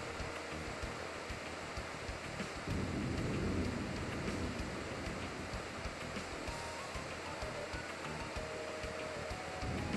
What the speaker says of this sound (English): This downpour is being caused by power emanating from the Cave of Origin.